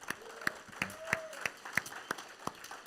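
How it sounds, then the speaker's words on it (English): Light, scattered clapping from a small group honoring food volunteers at a Celebrate Recovery meeting in Cocke County, a string of distinct claps at moderate distance with faint voices and a brief tonal whistle-like sound in the room. "Let's give them a round of applause"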